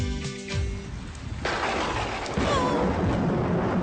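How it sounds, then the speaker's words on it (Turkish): Cartoon rain begins on a farm, a broad hissing wash that swells in suddenly and grows louder, steady and close, with faint voices and music fading beneath it. "Yağmur başladı."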